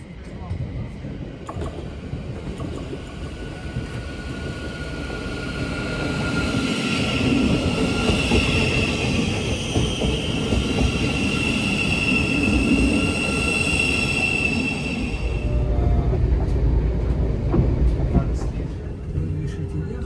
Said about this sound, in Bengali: ট্রেনটা ধরতে হবে ওই যে সামনে ট্রেন স্টেশন